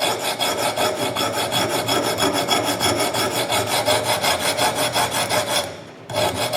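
Axe edge being sharpened on a coarse 50-grit diamond stone, a steady loud rasping scrape repeated in quick even strokes with no pause until a brief break near the end, no voices.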